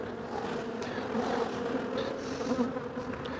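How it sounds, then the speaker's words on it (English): A queenless honeybee hive gives off a steady, droning roar, a dense buzzing hum heard close up that holds for several seconds, with a few individual bees zipping past and no talking. "But can you hear that roaring? That roaring tells me that they're queenless."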